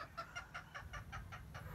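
Chickens cluck in a rhythmic series of about eight short, evenly spaced calls close by, over a steady low farmyard hum; the flock includes a talisain rooster and Boston Roundhead and Grey gamefowl.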